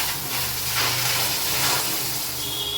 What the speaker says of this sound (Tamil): தேவையான பால் ஊற்றிக்கலாம்.